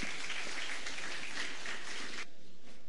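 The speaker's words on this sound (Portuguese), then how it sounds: "dá uma salva de palmas para o Albert, irmãos." Church congregation giving a round of applause, a dense patter of many hands clapping that carries on steadily and then drops off sharply near the end.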